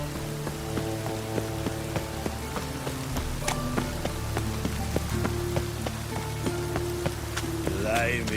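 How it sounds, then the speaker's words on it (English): Steady rain patters across a surface in The Witcher 3: Wild Hunt, a continuous even hiss with scattered small drop hits and faint footsteps underneath. "Looks like rain."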